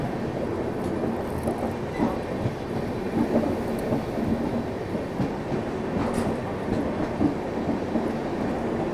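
Gowthami SF Express, a superfast passenger train, rolls steadily while overtaking another train, a continuous loud rumble of wheels and carriages with faint clicks and brief squeals, no voices.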